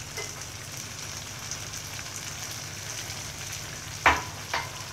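Half a kilo of sliced capsicum frying in a cooked masala in a home kitchen, a steady low sizzle throughout with a couple of brief clinks of a utensil near the end, no talk.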